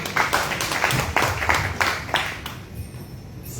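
Applause from an audience at a Vyasa Puja celebration for Tamal Krishna Goswami: a run of distinct claps, a few per second, moderately close, thinning out and fading over the last second.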